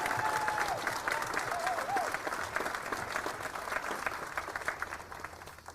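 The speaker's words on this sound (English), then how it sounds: "Give yourselves a round of applause" An audience at a Kroger ribbon cutting ceremony claps steadily, a dense crowd applause lasting several seconds that slowly thins out.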